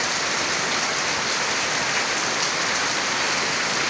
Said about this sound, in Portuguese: A chuva aqui tá pegando forte aqui em Pernambuco